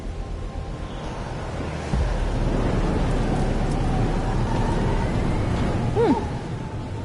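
Heavy thunderstorm rain pours steadily in the game Life is Strange: Double Exposure, a dense close roar that swells louder after the first couple of seconds, with a brief tonal sweep near the end.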